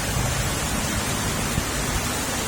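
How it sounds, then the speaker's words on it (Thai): Heavy rain pours steadily, a dense, loud, unbroken hiss of water filling the whole scene with no gaps. "โอ้ฝนแรงมากเลยฝนแรงครับ"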